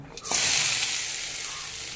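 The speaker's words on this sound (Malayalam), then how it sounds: "ഇനി അതിനുള്ള തേങ്ങ ഇവിടെ വറുത്തെടുക്കുക കേട്ടോ" Grated coconut hits a hot pan and breaks into a loud, steady sizzle of roasting, with spices such as onion, cardamom, cinnamon and cloves going in; the hiss stays bright and continuous throughout.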